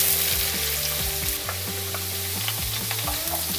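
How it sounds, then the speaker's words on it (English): Homemade potato chip slices fry in peanut oil, a steady dense sizzle and crackle with no one talking. "Okay, it's time to start frying."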